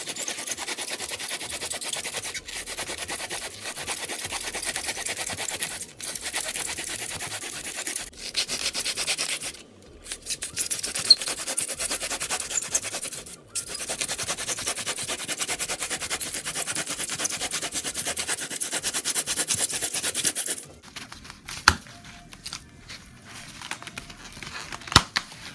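Excavating a river bed in a model railroad layout, a long stretch of steady rough scraping and rubbing close by, with brief pauses and a quieter ending.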